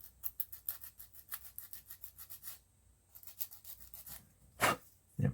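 A small plastic kit part, D2 from a U96 U-boat model, has flashing rubbed and filed smooth: quiet, close scraping strokes in quick bursts, with a brief pause and a louder sharp rasp near the end.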